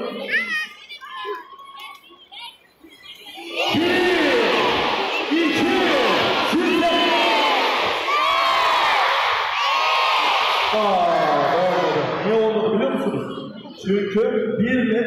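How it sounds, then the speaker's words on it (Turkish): A crowd, many of them children, chants and shouts together at a Şivlilik lantern parade in Konya. The loud, sustained massed voices rise and fall, with a quieter spoken stretch at the start and again at the end. "Şimdi hep birlikte 16'ya kadar sayacağız. 16'da karışma şov diye bağıracağız."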